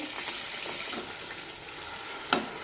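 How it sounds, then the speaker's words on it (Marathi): A poha puri deep-frying in hot oil gives a steady, close bubbling sizzle throughout, with one brief sharper splash or crackle near the end. "आता आणखीन एक पुरी तेलामध्ये तळून घेऊया।"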